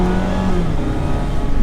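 A 2024 Mazda MX-5 Miata pulling hard at full throttle from first gear, the engine note loud and rising steadily as it revs from inside the car.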